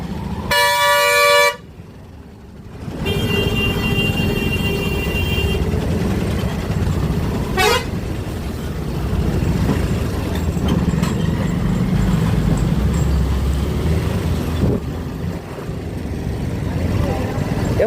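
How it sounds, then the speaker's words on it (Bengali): Heavy road traffic on a ride from Katighora to Badarpur, with loud, sharp car horn blasts up close, then a long idling engine rumble and more distant honks over the constant traffic noise. "প্রচুর পরিমাণে ট্রাফিক আছে প্রচুর পরিমাণে"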